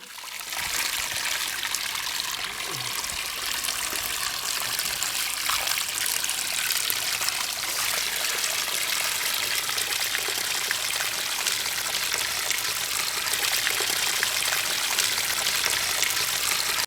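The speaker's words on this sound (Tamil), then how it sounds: "அதை சின்ன சின்னதாக அறுத்து சுத்தமாக கழுவி எடுத்துக்குவோம்." Tap water runs in a steady, close trickle and splash while eight cut-up quails are washed for a quail roast, continuous and without talk.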